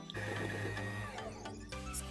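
A sewing machine used for sewing lingerie runs steadily with a whirring mechanical hum and tonal motor whine, heard close and moderately quiet with no talking.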